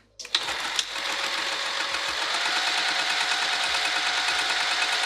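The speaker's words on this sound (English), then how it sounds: "let's sew right across here" A sewing machine stitching fabric for a bag, starting after a couple of clicks into a loud, even, rapid mechanical hum that continues close and steady to the end.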